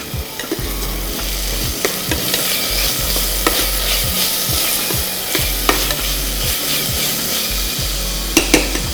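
Ginger garlic paste, more ginger than garlic, sautéed in a pan for spicy biryani: a constant loud sizzle under a regular rhythm of spatula scrapes and stirs, close and steady throughout.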